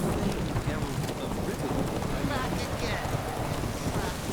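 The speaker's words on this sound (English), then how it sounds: "I like the thunder as we're running around this" Heavy rain pours steadily with rumbling thunder throughout a nighttime race in The Witcher 3 video game, a dense, continuous wash of noise with low rolling booms and no clear voices.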